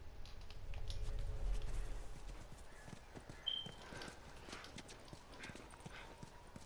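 Horse hooves clip-clop at a steady walking rhythm in The Last of Us, fairly close and clear, with a low rumble at the start and no talking.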